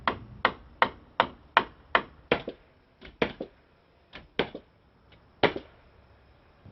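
Hammer blows drive nails into wooden blocking set in a wall as backing for board and batten siding: about a dozen sharp, fairly close strikes, regular at first and then more spaced, with no voices.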